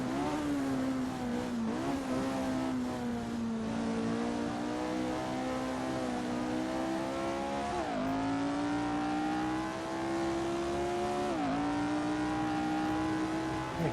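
Formula 1 race car engine at the 1967 Italian Grand Prix at Monza, a loud sustained high-pitched engine whine holding steady through the gears with brief dips at each gear change, heard continuously from on board.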